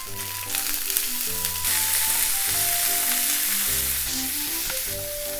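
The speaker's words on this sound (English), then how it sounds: "So after about a minute of stir frying" Steady sizzling of bean sprouts and bacon being stir fried in a hot pan, continuous and close, with tonal music playing underneath throughout.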